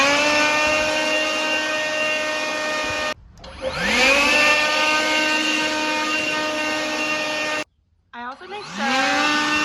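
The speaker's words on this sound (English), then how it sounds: "So what I'm gonna do is leaf blow around the edges and get everything into one big" A leaf blower whines loudly and steadily around a barn's goat hay area, cutting out twice and spinning back up each time, with a few spoken words over it.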